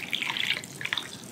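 Vinegar poured into a jar of pickled eggs, close liquid splashing and gurgling with small bright drips, brief and fairly quiet.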